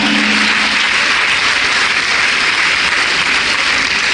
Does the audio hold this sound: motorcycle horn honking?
no